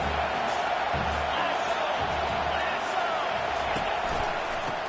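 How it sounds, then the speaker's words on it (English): Loud, continuous roar of a large stadium crowd cheering at an Iowa versus LSU football game, a dense wall of voices sustained throughout without pause. "This crowd bringing the energy and noise early."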